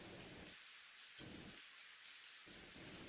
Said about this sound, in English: You hear what sounds like light raindrops gently falling on the window.